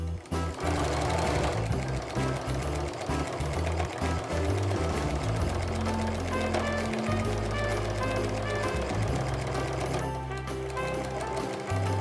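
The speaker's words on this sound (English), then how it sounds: "I'm just stitching in the ditch when I get to these corners." A sewing machine stitches in the ditch on a quilted Christmas snowflake mug rug, running in a steady, fast, continuous mechanical whir with a dense needle rhythm, close and loud from start to finish.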